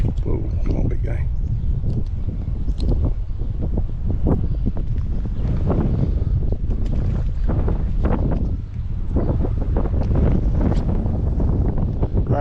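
Strong wind buffets the microphone out on the water during a bluegill fishing trip, a loud, gusty rumble and rustle that swells and falls continuously.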